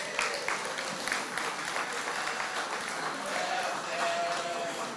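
Moderate applause fills an outdoor opening ceremony crowd honoring Harry Chalus on his birthday, steady clapping with voices mixed in and someone speaking over part of it.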